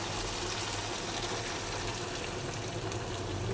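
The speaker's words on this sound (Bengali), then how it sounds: "এবার আমি জলটা দিয়ে দেবো" Water poured into a cooking pot of curry made with yogurt and oil, a steady, continuous rushing gush that runs close and fairly loud for several seconds without pause.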